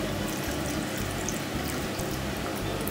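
Olive oil poured into a vinaigrette of lemon and lime juice, a steady close liquid stream that runs unbroken throughout.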